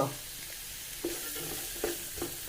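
Onion, salt, chili powder and green chilies sautéing in a pan, a continuous sizzle broken by a few dull stirring scrapes, close and alone.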